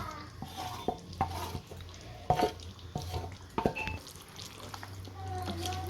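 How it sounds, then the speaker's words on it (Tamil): A spoon stirs fried onion, tomato and green chilli into a chicken tikka biryani, giving soft scraping and clinks against the pot with a low sizzle underneath, quiet and close. "முதல்ல வதக்கி வச்சுருக்க வெங்காயம் தக்காளி பச்சை மிளகாய் இதையும் இது கூடயே சேர்த்து மிக்ஸ் பண்ணிக்கலாம்"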